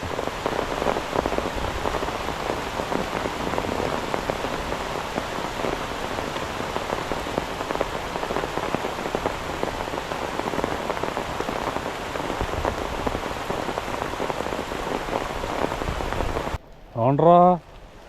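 Steady, dense rain pours down for a long stretch, a constant hiss of drops on surfaces, then stops abruptly as a brief voice cuts in at the end.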